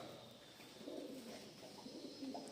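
Mardin tumbler pigeons coo softly and repeatedly against a steady hiss of background noise, with no voices.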